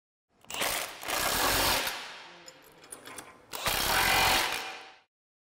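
Tank mounting brackets being bolted onto a planter's tongue with a power tool: two loud mechanical whirring bursts, each over a second long, separated by quieter ratcheting clicks.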